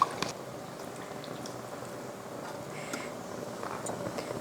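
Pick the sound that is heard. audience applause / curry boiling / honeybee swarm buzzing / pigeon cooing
curry boiling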